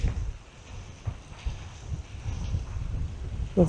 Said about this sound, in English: even though the wind has been a bit of a problem